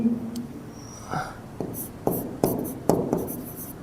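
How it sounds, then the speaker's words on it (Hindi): Chalk or a marker writes on a board during a grammar lesson in a classroom, with a series of short taps and scratchy strokes at a close, steady pace and no talking. "हम यहां पे लिखते हैं कि"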